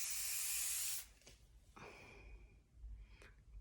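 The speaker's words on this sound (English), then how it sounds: "you just need the old faithful cement hairspray." Hairspray hisses out of an aerosol can onto hair in a loud, steady burst lasting about a second, followed by quieter rustling and a brief second spritz.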